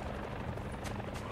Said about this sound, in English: There's a helicopter above us.